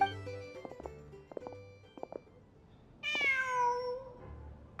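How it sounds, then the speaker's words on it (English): A cat in Genshin Impact gives one clear, drawn-out meow that falls in pitch, following a stretch of soft game tones and clicks. "Just a cat."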